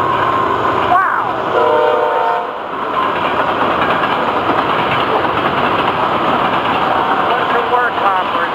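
Florida East Coast freight train with work hoppers, stone cars and cement tubs rolling past at close range, a loud steady rumble and clatter with a horn blast near the start and a voice talking over it.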